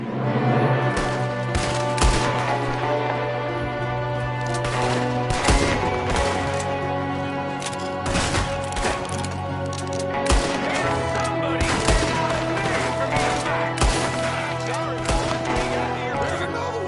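Rapid gunfire from a Red Dead Redemption 2 shootout crackles in dense, repeated bursts of sharp shots, near and loud throughout, with voices talking underneath.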